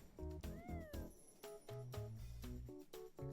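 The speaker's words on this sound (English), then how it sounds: "I like that I turned their enchantment into a cute little kitty." A cute cartoon kitty token meows in the digital card game Magic: The Gathering Arena, several clear close meows and a rising mew over rhythmic game music with plucked notes.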